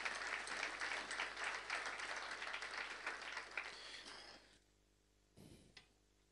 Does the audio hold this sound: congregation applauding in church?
yes